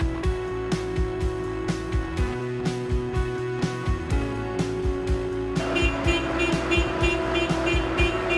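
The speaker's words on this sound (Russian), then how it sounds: "Здесь мы видим, как грузовые машины приехали для погрузки гранита." Trucks at a granite quarry pulling up to load stone, engines rumbling steadily with sharp mechanical knocks and clanks repeating throughout, a brighter metallic layer joining near the end.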